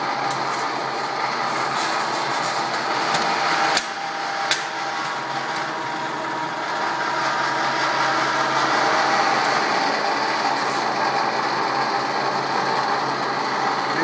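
An 18-gauge Lockformer Pittsburgh seam roll-forming machine with 3-in-1 rolls, wired 230-volt three-phase, running with a steady mechanical whir and rattle of gears, broken by a couple of sharp clicks.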